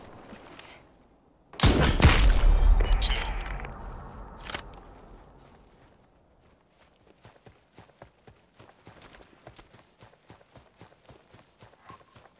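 Gunfire in the battle royale game Super People: a loud, dense burst of shots up close, then a long run of rapid, evenly spaced cracks that are sharp but quieter.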